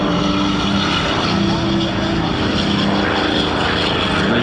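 Douglas A-1 Skyraider propeller warbird flying at the MCAS Miramar air show, its big radial engine giving a loud, steady droning roar with a rough throb that holds throughout, no one talking.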